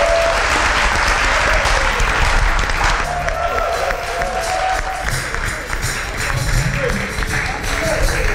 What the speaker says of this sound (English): Ladies and gentlemen, a round of applause for our celebrity guest